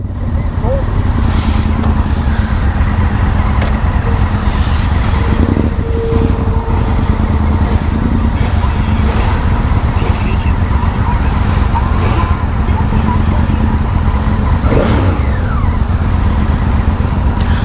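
A 2017 Honda Africa Twin motorcycle engine drones steadily under way, loud and continuous beneath heavy wind rush, while a rider talks over it.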